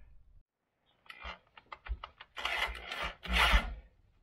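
A Sawzall reciprocating saw cuts into a Toyota Tacoma truck part tied to the air springs and cradles, giving a quiet, uneven run of short rasping strokes that builds into denser grinding bursts near the end.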